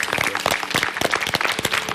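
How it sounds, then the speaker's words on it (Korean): A crowd applauds steadily, dense overlapping claps sustained throughout without pause. "저 두 분 행복하라고 큰 박수 한번 보내"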